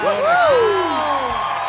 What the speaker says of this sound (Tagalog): Palakpakan na rin kasama ang sigawan niya.